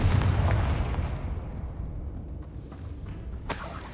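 A Confringo fire spell explodes in the video game Hogwarts Legacy: a loud, booming blast at the start rumbles away over a few seconds, then a sharp second burst cracks out near the end.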